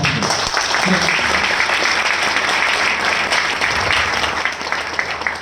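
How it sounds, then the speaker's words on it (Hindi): Loud, sustained applause from an audience seated in a hall during a health talk, steady dense clapping that carries on throughout with little letup. "वाह, एक बार जोरदार ताली हो जाए।"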